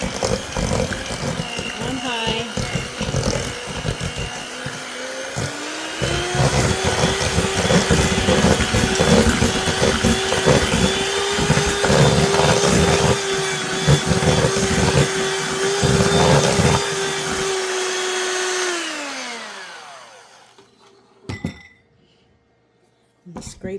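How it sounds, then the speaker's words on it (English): An electric mixer set on high whirs steadily through butter and sugar for about twenty seconds, clinking against the bowl, then winds down and stops, leaving a few faint knocks. "I'm going to blend it some more."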